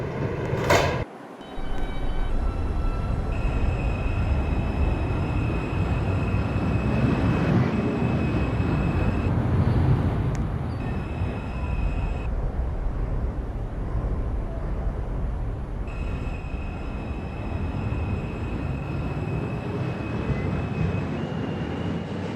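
A Woodlawn-bound New York City subway 4 train runs steadily near 183rd Street, a continuous loud rumble of wheels and motors with tonal whine, a brief dip near the start, then an even roar throughout.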